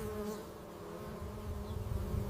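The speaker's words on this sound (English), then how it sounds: "The insect prey lands, expecting nectar." A flying insect buzzes steadily close by as it comes in to land near a waiting mantis, a sustained droning hum with no voices.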